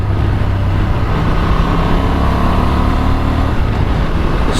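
A Honda Transalp XL750 motorcycle cruises in sixth gear in standard mode, its engine drone steady and loud throughout, mixed with rushing wind noise.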